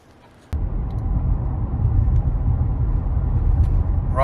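A 2017 GMC Yukon Denali XL with a 2-inch rear leveling kit drives on the road, its steady low engine and road rumble starting abruptly and continuing close and even throughout, with no talking.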